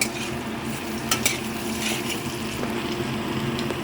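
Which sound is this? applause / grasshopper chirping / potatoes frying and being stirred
potatoes frying and being stirred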